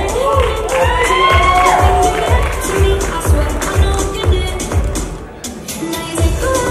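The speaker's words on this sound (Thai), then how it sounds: "ได้ยินเสียงเชียร์กองเชียร์" An audience cheers and shouts at a male pageant award ceremony, a loud sustained crowd roar with whoops and high shrieks, backed by a steady thumping music beat.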